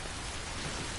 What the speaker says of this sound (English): So rain in this game is called timefall